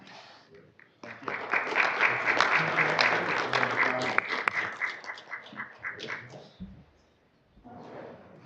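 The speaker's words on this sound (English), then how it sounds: "Another round of applause for Vipra and her entire incredible artistry" Applause at a board meeting for a performer and her artistry: a full round of clapping swells in after a quiet start, holds steady, tapers off, then a voice begins speaking afterward.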